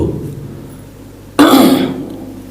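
A single sharp cough or throat clearing from someone speaking at a temple fair discourse, loud and close, bursting out after a stretch of quiet room tone.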